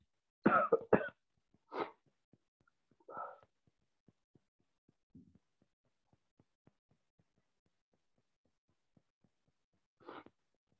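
A man coughs several times in short, close bursts, a quick double cough followed by single coughs spaced out over the quiet, with a last one near the end.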